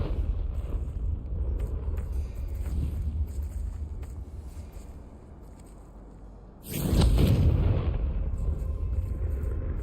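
A Confringo spell explodes in Hogwarts Legacy on PS5: a sudden loud, broad blast that bursts in partway through and rumbles on over a low, steady game ambience.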